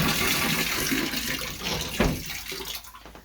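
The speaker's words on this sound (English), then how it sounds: "I do have running water, so I can't complain about that." Tap water runs steadily into a basin in a small home washroom, a continuous broadband splashing rush that stays close and fairly loud, with a brief knock partway through and the flow easing slightly toward the end.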